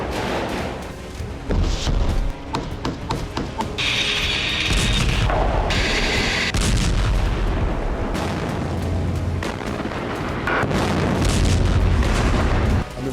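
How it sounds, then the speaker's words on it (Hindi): Mortar launcher fire in ground combat in Gaza, with repeated loud booms and blasts and sharp bursts, dense and continuous over a rumbling low background, no speech. "हमास ने आईडीएफ पर अटैक किया और मोर्टार लॉन्चर से हमला करके"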